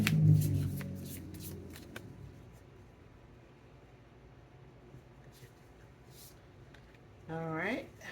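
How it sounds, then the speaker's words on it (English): Sufi Tarot cards shuffled by hand in soft, quick riffling bursts near the start, then quieter rustling, with a voice speaking over parts of it. "I'm going to pull a card from the SUFI Tarot"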